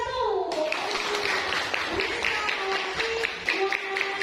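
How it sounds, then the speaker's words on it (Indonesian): Students in a classroom clap for a group after its presentation, with a brisk burst of mixed hand claps and children's voices chattering over it. "Tepuk tangan untuk kelompok 1."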